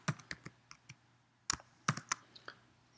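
Keys clatter on a computer keyboard as a formula is typed, quiet and close, with irregular bursts of sharp clicks and short pauses between them.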